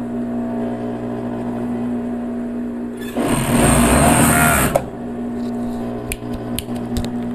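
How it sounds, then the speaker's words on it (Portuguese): A sewing machine stitches a legging waistband seam in one loud, steady whirring burst of about two seconds, with a quieter motor hum before and after and a few light clicks at the end. "eu passo mais uma costura aqui"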